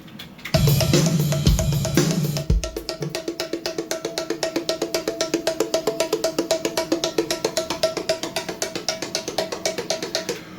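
Rapid, evenly spaced bongo hits run steadily after a brief low, loud opening passage, a constant straight sixteenth-note pulse with light tonal accompaniment.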